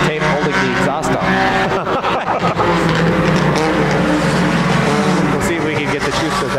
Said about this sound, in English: it's going to be two laps to go this time around for Rock and Rollin'.